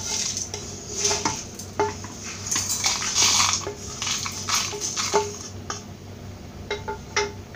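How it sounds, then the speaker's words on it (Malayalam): Cooled chicken chukka masala being spooned into a small mixer jar, with repeated close metallic clinks and taps of a spoon against the steel jar, some scraping between hits. "ഇത് മിക്സിയുടെ ചെറിയ ജാറിലേക്ക് ഇട്ട് കൊടുക്കാം."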